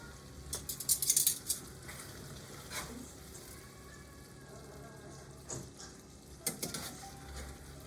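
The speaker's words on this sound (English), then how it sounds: "And now we start mixing it." Vodka pasta with Portuguese sausage and cherry tomatoes is stirred in a pan: soft scraping and clinks of a utensil over a low sizzle, quiet and close, with a few sharper metallic taps.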